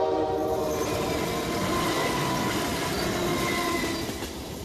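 A train in the Rocky Mountains sounds its horn in a loud sustained chord over the rumble and clatter of rolling cars, close and steady, fading slightly at the end.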